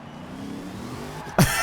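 A video game engine of the Hot Wheels Bone Shaker in Forza Horizon 4 hums steadily at low revs during a gear change, then abruptly roars up in a sharp, loud rev at the end.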